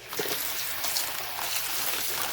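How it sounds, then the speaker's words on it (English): Tap water runs steadily nearby in a home kitchen during a fish fry, a continuous hissing splash with no pauses. "I'm going to turn on the water so there'll be some noise"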